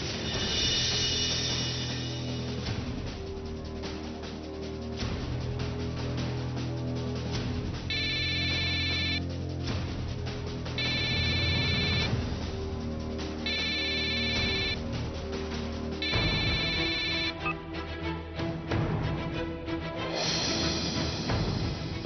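A telephone rings in short repeated electronic bursts, four evenly spaced rings standing out over steady background music throughout.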